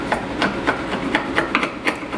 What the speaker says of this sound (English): If you have to do any cleanup, you just take a chisel.